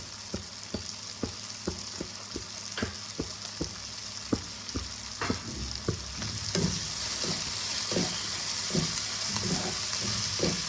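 Ginger-garlic paste frying in oil with softened tomatoes, a steady sizzle punctuated by regular sharp taps of a spatula against the pan, close up.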